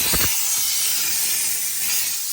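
Steam jets from a Chief Steamer steam cleaner into a car's interior: a brief low thump at the start, then a strong, continuous close-up hiss that stays even throughout.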